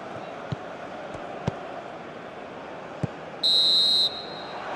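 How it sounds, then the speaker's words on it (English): A referee's half-time whistle in the football video game eFootball PES 2021 gives one shrill blast of under a second over steady stadium crowd noise, with a few soft thumps before it. "There is the half-time whistle."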